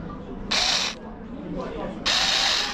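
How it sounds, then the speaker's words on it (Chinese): A Xiaomi electric screwdriver drives a screw in, giving two short, loud whirring bursts separated by a brief pause and quieter mechanical clicking, with no voices. "这是拧螺丝"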